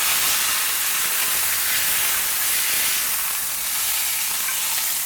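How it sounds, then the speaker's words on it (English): Beef pot roast searing in a hot pan for apple cider pot roast, giving off a steady, loud sizzle and hiss that holds without break, with no talking. "then give it a quick sear on the edges"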